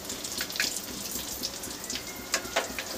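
Pakoras frying a second time in hot oil, a steady crackling sizzle with scattered sharp pops and spits, close and fairly loud with no talking.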